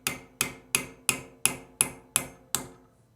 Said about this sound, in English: Now I'll take my pin punch that's wrapped up and my hammer, and I'll punch the sight back.